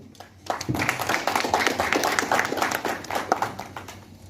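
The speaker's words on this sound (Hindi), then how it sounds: "जबरदस्त तालियां होनी चाहिए" An audience at an inauguration session breaks into applause, a dense patter of clapping hands that starts abruptly and continues steadily for a few seconds.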